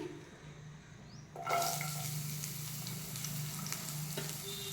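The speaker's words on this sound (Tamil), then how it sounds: "ஆனியன் நல்லா வதங்கிடுச்சு பாருங்கள்." Onion sautés with bay leaf, cloves and cinnamon. A quieter stretch gives way to a loud, steady sizzle as the ingredients hit the hot pan, then the frying hiss continues close by with light stirring and no talking.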